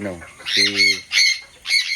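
An imported Janssen racing pigeon, Bold Ruler, gives several sharp, close squawks in short bursts, mixed with brief wing flapping.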